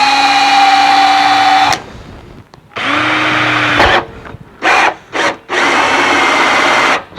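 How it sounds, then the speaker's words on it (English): A power drill drilling a hole for a DIY barrel filter whines in steady bursts, stopping and restarting several times, with short pulses of drilling close by toward the end. "Take it nice and steady, let the weight of the drill do itself."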